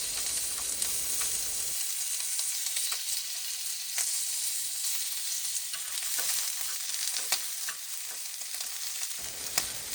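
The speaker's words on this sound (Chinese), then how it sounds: "培根像这样煎的稍微焦焦脆脆的，然后油都被逼出来" Strips of bacon, halved, frying in a pan until slightly charred and crisp with the fat rendering out, a steady close crackle and sizzle running throughout with a few louder pops and no voices.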